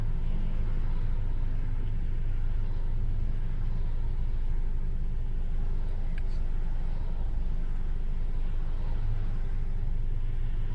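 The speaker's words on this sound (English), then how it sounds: "This is all you get is car after car after car." Steady road traffic rumble as cars pass one after another during the holiday season, a dense continuous low drone with no distinct gaps, fairly loud and close, with no talk.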